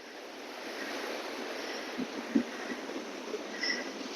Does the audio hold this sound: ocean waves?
yes